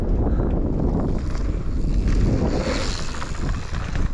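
A mountain biker's jacket flaps hard in the wind as he rides past on a dirt trail, a loud, rough, fluttering roar mixed with heavy wind buffeting on the microphone, with no talking.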